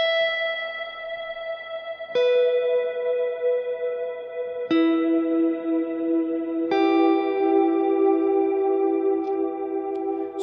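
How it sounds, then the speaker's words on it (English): Electric guitar played through a Big Sky reverb pedal set to a big, full reverb, with four sustained chords that ring out long and wash into one another under a lush, spacious tail, loud and alone. "Let's say I have a pretty big reverb, full reverb sound with my Big Sky like this."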